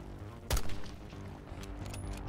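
Mortar fire in the video game Call of Duty Black Ops 6, a single sharp, heavy blast followed by faint rumbling and scattered distant thuds, fairly quiet overall.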